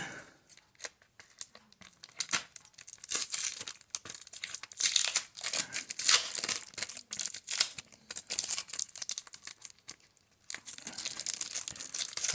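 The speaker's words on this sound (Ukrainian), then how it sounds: "Зараз я відкрию за камерою." A package being torn open while unboxing auction lots, continuous close ripping and crinkling of paper and plastic wrapping in dense bursts.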